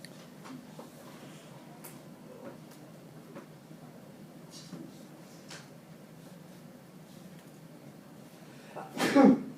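Near the end a single loud sneeze bursts out over quiet classroom noise and faint scattered sounds during an algebra lesson.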